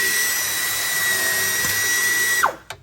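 A power drill whines at a steady high pitch for a couple of seconds while drilling a hole at a drawer assembly station, then spins down and stops abruptly.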